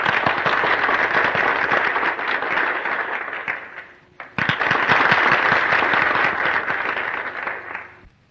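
Audience applause at a dance contest in a 1932 film, a loud, dense crowd clapping that dips briefly to near silence midway, then surges back and fades at the end.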